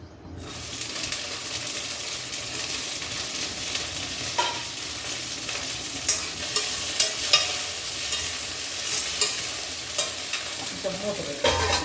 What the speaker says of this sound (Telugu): ఇప్పుడు పచ్చిమిర్చి వేయించేసుకుందాం మనం.